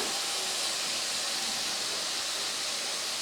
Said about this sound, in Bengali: তো এইভাবে পেঁয়াজটাকে একটু সময় নিয়ে ভেজে নিতে হবে হালকা বাদামি কালার হওয়া পর্যন্ত।